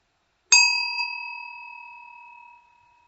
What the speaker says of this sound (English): So I ring the bell to start the meditation